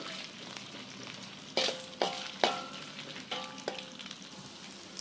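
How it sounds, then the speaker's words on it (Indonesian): Meatballs frying in hot oil in a pan, a soft steady sizzle punctuated by several sharp spatters and scraping stirs toward the middle and end. "Kita goreng sebentar baksonya."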